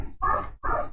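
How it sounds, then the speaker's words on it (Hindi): A dog barking at night, two loud, sharp barks in quick succession, fairly close and alone without talk. "पीछे डॉगी के भौंकने की आवाज आ रही है"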